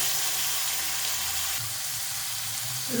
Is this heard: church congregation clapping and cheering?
no